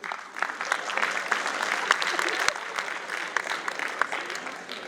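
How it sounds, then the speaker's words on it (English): An audience at a DevFest 2022 tech talk claps steadily, a dense and even round of applause filling the room for several seconds. "Give a round of applause for yourself."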